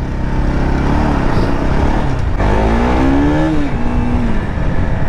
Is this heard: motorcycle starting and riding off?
yes